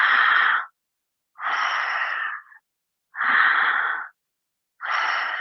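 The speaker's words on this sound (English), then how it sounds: "We're breathing in and out, making the sound in our throat." Open-mouthed ujjayi-style breathing in a yoga pranayama session, four long breathy rasps from the throat alternating inhale and exhale with short silent gaps, close and steady.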